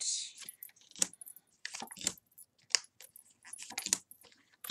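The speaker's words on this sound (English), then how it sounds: "Go ahead and lay these cards out." Tarot cards are laid out on a table during a reading, a run of soft slaps, shuffles and rustles of card stock coming in short irregular bursts, close and fairly quiet.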